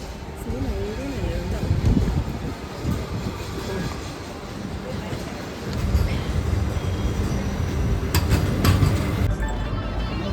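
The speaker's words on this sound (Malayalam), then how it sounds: "നമ്മുടെ ട്രെയിൻ വരുന്നുണ്ട് കേട്ടോ." Train rumbling into Kollam railway station, a steady low roar with wind buffeting and a brief clatter near the end, heard from the platform with voices underneath.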